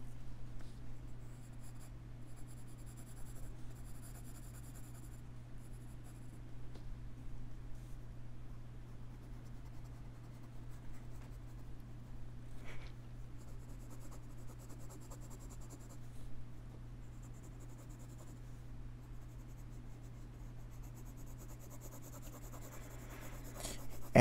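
Pencil drawing a bison on paper: soft, scratchy strokes that come in intermittent bursts, faint and close, over a constant low electrical hum.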